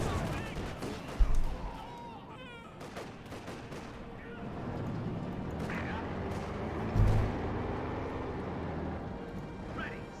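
Machine gun fire and battle noise in Company of Heroes 2, rattling bursts and scattered distant shots mixed under an excited commentator's voice, with a couple of heavier thuds.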